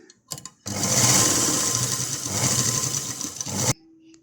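A sewing machine runs a second line of stitching along a blouse shoulder seam, a loud continuous whirring burst of about three seconds that stops abruptly, with a few faint clicks before it.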